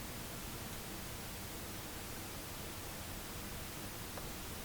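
Constant broadband hiss with a faint low hum underneath from a Waves audio plugin's analog switch, steady and unchanging throughout.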